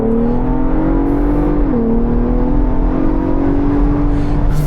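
A 2026 Ford Bronco Raptor engine, with 418 horsepower and 440 pound-feet of torque, accelerates hard on non-slick tires, a loud continuous roar that climbs in pitch, dips briefly at a shift and then keeps rising.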